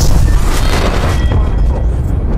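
Frag grenade detonating in the battle royale video game Apex Legends, a single loud booming blast with a rumbling tail, with game voice lines around it.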